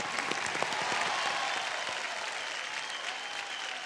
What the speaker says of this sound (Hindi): पहले तो एक बार मैम के लिए फिर से तालियां एवरीवन